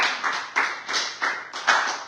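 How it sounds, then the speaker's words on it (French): A small church gathering claps for a woman after prayer, a few distinct bursts of handclaps in uneven rhythm, close and moderately loud, with no talking. "On peut applaudir pour Kézia"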